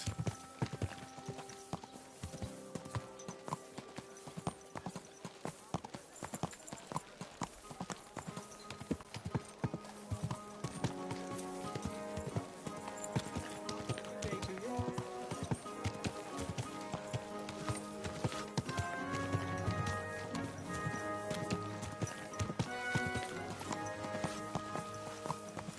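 Horse hooves clip-clop at a steady walking pace in Kingdom Come: Deliverance 2, continuing throughout beneath a busy layer of game music and ambient sound.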